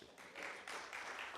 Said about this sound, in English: the lady made everybody clap for that.